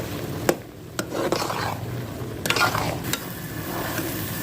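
Chickpeas roasting in masala in a pan, stirred with a spoon, with steady sizzling and occasional sharp scrapes and knocks against the pan.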